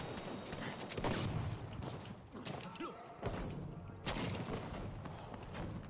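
A tank takes a glancing hit in the video game Battlefield V, heard as heavy thuds and crashing impacts over dense battle noise and rumble, with a voice talking over it.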